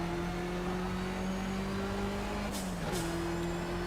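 A turbocharged car in the Project CARS racing game holds a steady engine drone, then briefly dips and lifts during a gear change with two short turbo hisses or whooshes, moderately loud and without voices.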